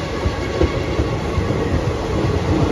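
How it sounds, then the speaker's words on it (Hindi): Passenger train crawling slowly through a station on Indian rail, with continuous rumbling wagon noise and soft rhythmic wheel clacks over rail joints, steady and fairly loud throughout. "ट्रेन क्रॉल करके चल रही है।"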